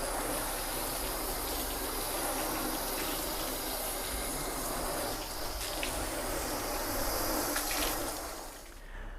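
Water spraying from a hose shower nozzle rinsing soap off a car, a steady hissing gush held close and loud, cutting off at the end.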